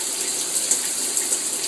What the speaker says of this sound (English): He's drinking water out of the shower head.